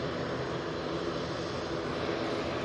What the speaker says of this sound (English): We've got a prop with us. It's the Aer Lingus Etihad. That's what you can hear.